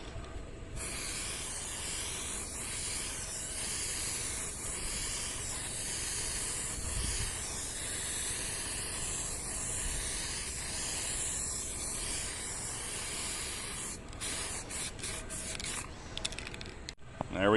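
A continuous close hiss of a spray gun laying a coat of 1K primer filler runs almost unbroken, then stutters into short bursts near the end.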